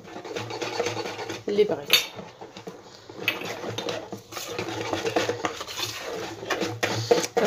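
Flour being mixed into a biscuit mixture in a bowl for a mandarin cake, with repeated scraping and clinking of a utensil against the bowl in uneven bursts, and a brief spoken remark.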